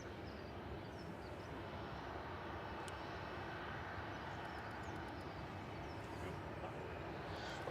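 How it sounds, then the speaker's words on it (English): A Cathay Pacific Airbus A350-900 on short final into Manchester Airport, arriving from Hong Kong, gives a steady, fairly faint broadband jet roar that holds even throughout without any talk. "on short final is BLQB for Cathay Pacific. Flight 219, A350-900, coming in from Hong Kong"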